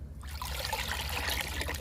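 Liquid fertilizer pours and splashes into water as it is mixed for plants, a steady close trickling gush that continues throughout.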